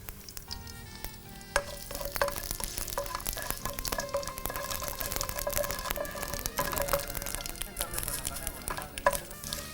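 Dry red chillies and mustard seeds sizzle and pop in hot oil for a South Indian tempering, a continuous close crackle with sharp popping bursts and occasional stirring scrapes.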